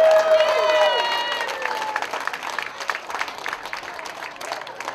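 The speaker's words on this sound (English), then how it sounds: "Let's give them a big round of applause." Outdoor crowd at dragon boat races applauding and cheering in a dense, steady wash of claps, with a bright tonal voice-like sound over the first second before the clapping carries on alone and gradually thins.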